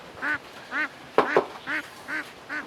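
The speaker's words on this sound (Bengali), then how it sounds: "অনেক শব্দ করছে, যদিও হাঁসগুলো অনেক সুন্দর।" Khaki Campbell ducks quacking loudly and close, six evenly spaced nasal quacks in a steady rhythm, one call doubled and harsher in the middle, with no talk.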